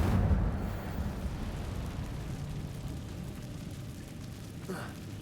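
Incendio fire spell in the video game Hogwarts Legacy, a low rumbling whoosh of flames that starts loud and slowly eases into a steady roar.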